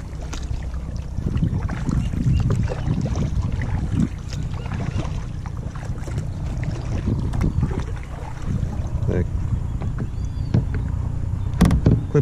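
A Pedalfish 10 kayak paddled out past weeds on open water, with soft splashes and water swishes under steady wind buffeting on the microphone.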